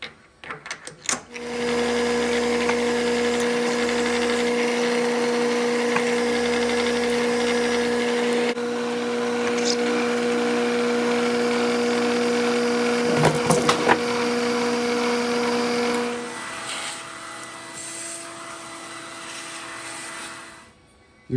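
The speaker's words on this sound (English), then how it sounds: "First, we center drill." Center drill boring a hole in metal on a lathe or drill press, a steady loud machine drone with tonal whine running throughout, a brief clatter midway, then the motor note drops near the end.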